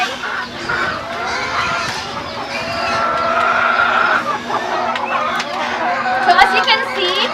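Layer hens cluck in a steady, overlapping chorus inside a backyard poultry house on a Philippine farm, the sound close and continuous throughout. A few brighter, higher calls cut through toward the end.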